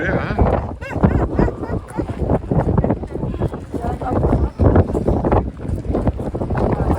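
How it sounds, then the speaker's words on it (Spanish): Strong wind buffets the microphone at an Icelandic volcano, a loud, continuous rumbling roar with gusts, while people talk over it throughout. "Mucho viento"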